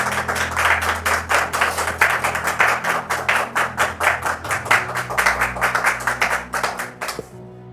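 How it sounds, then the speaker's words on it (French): A TV studio audience welcomes a guest onto the set with rhythmic clapping, sharp, evenly spaced claps in unison over a low musical bed, ending abruptly after several seconds. "Sous vos applaudissements."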